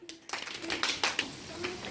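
Schoolchildren clap in a classroom, a quick, uneven burst of hand claps from several kids close by, rising and fading over a couple of seconds.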